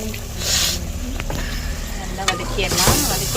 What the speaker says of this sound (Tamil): நல்லா வதக்கிட்டு